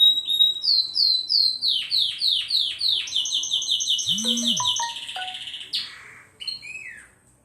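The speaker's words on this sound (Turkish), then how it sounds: "O ötüyorlar, çok güzel ötüyorlar." Birds sing loudly and up close, a rapid series of repeated whistling chirps and trills, with a few varied calls layered in.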